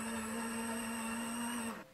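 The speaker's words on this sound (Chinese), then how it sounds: "倒入破壁机" High-speed blender whirring as it blends banana, beaten egg and milk into a shake, a loud steady motor whine held for nearly two seconds before cutting off abruptly, heard close up with no talking.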